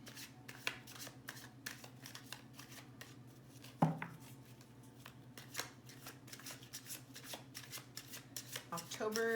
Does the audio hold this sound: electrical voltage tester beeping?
no